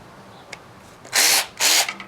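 Durofix G12 series 12V cordless lithium-ion 1/4-inch extended ratchet spinning a 12 mm socket to tighten fasteners: two loud, close motor whirs of about a quarter second each, following a faint click, with no talking.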